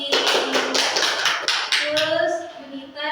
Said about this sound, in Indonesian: Tepuk tangan untuk Sesanti.